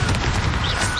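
Confringo explosive spell cast in the Hogwarts Legacy video game, a loud, dense rumbling blast with rapid crackling bursts filling the short moment.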